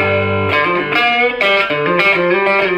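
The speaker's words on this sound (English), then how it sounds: "the way that I use this amp most often is on the crunch channel with a low gain setting and a high volume setting." Electric guitar played through a Boss Katana amp on the crunch channel at low gain and high volume, a loud, steady run of sustained notes and chords with mild grit, no talking.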